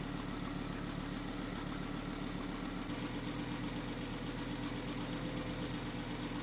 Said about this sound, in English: I'll start the engine, so prepare your ears for that lovely 5-cylinder sound